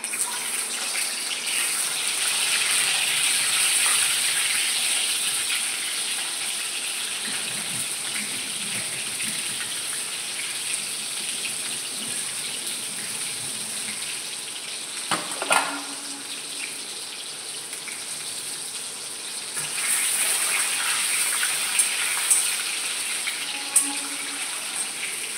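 Eggs fry lightly in a little ghee in a pan for egg curry, a continuous soft sizzling hiss with occasional faint clinks and small pops, no talking heard.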